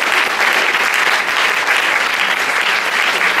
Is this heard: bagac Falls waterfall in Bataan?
no